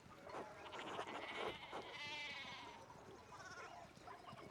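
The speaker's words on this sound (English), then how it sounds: "we need to get these sheep under control" Sheep bleat in the medieval video game Pentiment, several wavering calls that overlap and rise and fall in loudness across the clip, set over soft ambient background noise with no speech.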